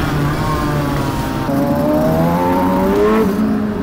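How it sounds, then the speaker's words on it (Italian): Yamaha R6 sport motorcycle revving at a Christmas rider meetup, its high-pitched engine rising and holding in continuous loud pulls amid busy crowd and traffic noise. "Quanto cazzo suona e quanto cazzo va forte l'R6."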